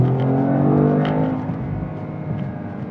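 A 2025 Toyota GR Corolla with the 8-speed direct automatic revs hard, a loud, close engine note climbing and holding steady before easing slightly, with no talking.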